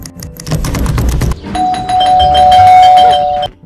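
A doorbell rings twice in the Scary Teacher 3D video game, first a busy clatter of chimes, then a long sustained bell tone that holds loud and clear for about two seconds over background game sounds.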